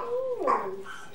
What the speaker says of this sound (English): Look at the puppy. It's a puppy.